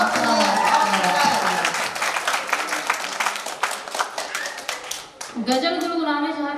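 An audience at a Louis Braille birth anniversary ceremony claps in a lively, dense burst of close hand claps for several seconds, which fades as a voice takes over.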